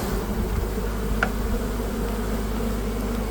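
Honeybees buzz at an open hive while frames are worked, a dense steady drone close by with no speech.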